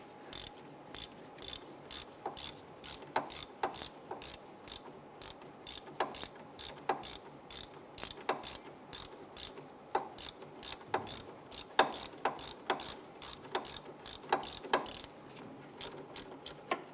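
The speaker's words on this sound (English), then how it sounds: "We're using our swivel head ratchet to get in there." A swivel head ratchet loosens a castle nut on a 1999-2004 Jeep Grand Cherokee tie rod, a close, steady series of sharp ratcheting clicks in regular bursts, one stroke after another, with no talking.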